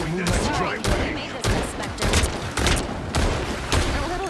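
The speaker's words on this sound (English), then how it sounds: "I'll use my shotgun to harass and injure" Shotgun fire in Marvel Rivals: a rapid series of loud, close blasts, roughly one every half second, each sharp crack trailing into a short rumble amid game effects.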